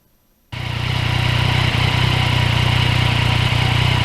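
A 2020 Yamaha MT-09 motorcycle engine drones steadily while riding, kicking in loud and close after half a second of near silence and holding a constant low rumble.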